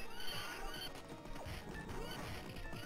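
A horse whinnies in the arcade beat-'em-up Knights of the Round, rising out of dense game audio with clopping hooves, clashing hits and a steady background soundtrack.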